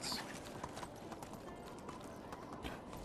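Horse hooves clip-clop at a steady walking rhythm in the medieval survival game Medieval Dynasty, moderately close and faint, alone with no talk over them.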